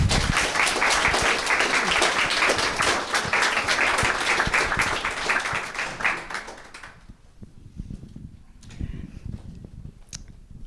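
Audience applause welcoming two speakers at an in-conversation event, dense clapping from a crowd that holds strong for about six seconds, then fades out to scattered claps and quiet room noise.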